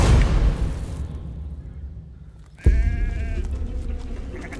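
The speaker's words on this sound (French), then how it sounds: "Les moutons ne devraient plus tarder" Sheep bleat at the end of the day, a sharp wavering call breaking in clearly after a quieter stretch of low rumbling background, then trailing on with faint bleats.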